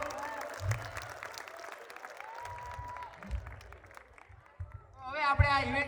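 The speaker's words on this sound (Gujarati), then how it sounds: "તો એક વખત બંને પ્રોફેસર માટે જોરદાર તાળીઓ થઈ જાય હો" An audience applauds two professors at a veterinary college annual function, with scattered, moderate clapping under a speaker's voice and a singer's voice rising near the end.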